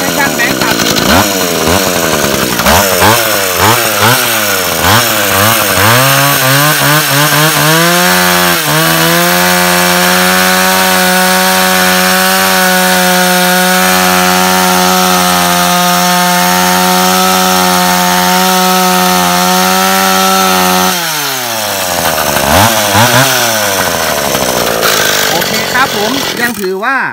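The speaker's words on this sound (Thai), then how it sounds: "ตัวนี้สตีล015นะครับตัวนี้สตาร์ทได้นะครับฟังเสียงดูนะครับ" A Stihl 015 AV chainsaw runs loud and close, revving up and down, then settles into a long steady high-revving cut through wood before dropping back to idle revs.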